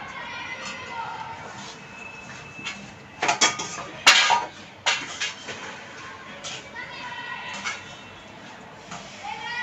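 A spoon scrapes and clatters against a pan while sesame, peanuts and cardamom powder are mixed into hot jaggery syrup for sesame laddoos. Irregular metallic knocks rise over steady background noise, and someone talks throughout.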